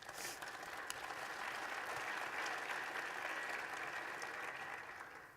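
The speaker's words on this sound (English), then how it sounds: "Round of applause, please." Soft, distant applause from an audience welcoming a panel at a space and big data event, an even wash of clapping that holds steady before trailing off.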